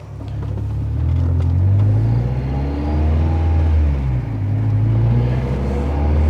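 A 2.0 16V Volkswagen Golf Mk2 drives on the road, its engine giving a steady, loud low rumble that swells and eases slightly, heard from inside the car with no talking.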